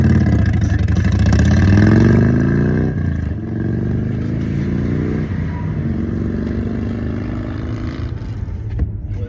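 A big Harley motorcycle rumbles close by in traffic, its engine revving up then settling into a steady low throb heard from inside a car.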